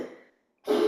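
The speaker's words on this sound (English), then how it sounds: "That's my dog's coughing." A dog named Toby coughs after drinking too fast, one short harsh hack close by after a brief rasp and a moment of quiet.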